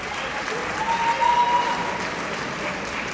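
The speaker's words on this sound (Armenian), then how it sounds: "Ծափարենք այս կնոջը ամեն դեպքում" Applause from an audience for a woman, a steady dense patter of clapping at moderate level throughout, with no voices over it.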